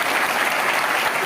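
Audience at a Bhim Army rally in Haryana claps loudly and continuously, a dense wash of applause filling the whole short stretch.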